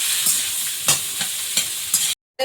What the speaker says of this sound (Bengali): বড়াগুলো ভেজে তুলে নিচ্ছি